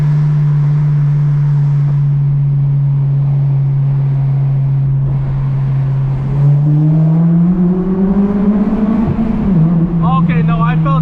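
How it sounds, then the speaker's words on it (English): An 8th-generation Honda Civic Si with a Hondata FlashPro pulls hard in a tunnel, its engine droning steadily, then climbing loudly in pitch and echoing off the walls as it revs; a voice speaks over it. "We have to do a little tunnel pull for the boys."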